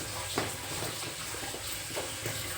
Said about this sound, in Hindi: हमने खोल दिया सिंक में नल को।